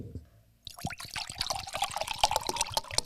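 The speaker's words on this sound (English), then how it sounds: "I have to drink out of the bottle like a heathen." Water sloshing and trickling as someone drinks from a plastic water bottle in a courtroom, a short pouring gurgle after a quiet start, close and fairly soft.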